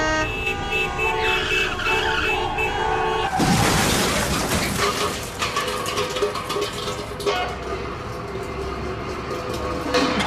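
A car horn blares against traffic noise, then a sudden loud burst of skidding and crashing erupts midway and decays into lingering rumble and clatter, with no voices.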